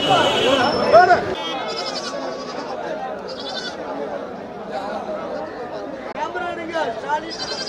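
Goats bleat repeatedly at a busy goat market in Melapalayam, their cries rising over constant crowd chatter and nearby talking voices.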